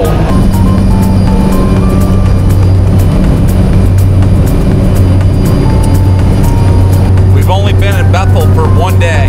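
A Grant Aviation airplane's engine drones loudly and steadily throughout, a continuous roar with bursts of speech over it near the end.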